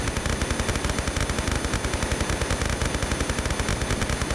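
Sustained automatic MP5 fire in Tomb Raider III, a fast, evenly spaced stream of loud submachine gun shots that runs without a break the whole time.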